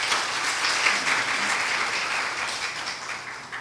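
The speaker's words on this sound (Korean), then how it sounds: "큰 박수 부탁드립니다." Steady audience applause opening a Korea University debate forum on improving public certificates, a full, even roll of clapping from a seated crowd that tapers slightly toward the end.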